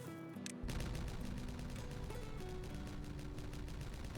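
Explosions in the city-building video game Timberborn: after a brief quiet start, a dense, rapid run of crackling, popping bursts continues steadily, faint and unbroken.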